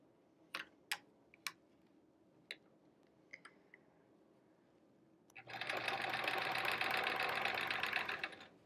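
A sewing machine doing free-motion quilting on fabric stays quiet at first apart from a few sharp ticks and clicks, then starts a fast, steady, close whirring stitch run that lasts to the end.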